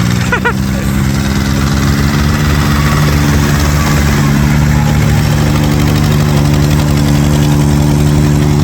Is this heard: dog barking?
no